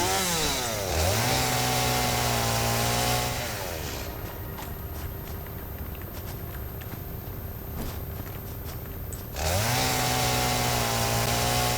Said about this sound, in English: Chainsaw time.